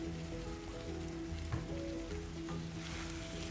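Chicken sautés in a pan with a soft, continuous hiss and crackle like light rain, fairly quiet and steady, with no talking.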